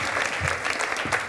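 An audience claps steadily at the close of a talk on rent-to-rent property deals, a dense and even round of applause that keeps going for the whole short stretch without any voices on top.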